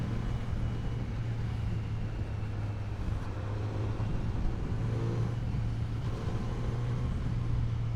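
A 2020 Kawasaki Z900 motorcycle rides in third gear through Mumbai, its engine giving a steady, loud low drone with a gentle rise as it pulls and accelerates, over continuous wind and road rumble.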